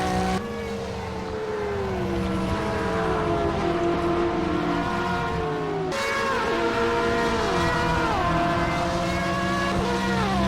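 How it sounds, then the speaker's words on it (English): Race cars from a multiclass endurance event in a sim racing video game roar past one after another, engine notes rising and falling as each approaches and recedes, loud and without talk. "just listening to the cars they come through"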